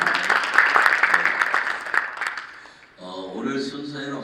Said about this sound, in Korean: 큰 박수 하십시다.